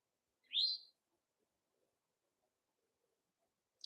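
One bird outdoors gives a single sharp, high chirp, faint and brief, then near silence until another note starts at the very end.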